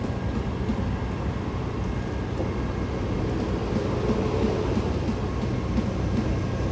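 An M8 commuter train on the rails near New York City rumbles past as a steady, low, continuous roar that stays at a constant level throughout.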